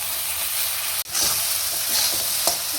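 Mushrooms frying in oil with cumin, ginger and tomato, a steady close crackling sizzle with stirring scrapes and one brief dropout midway.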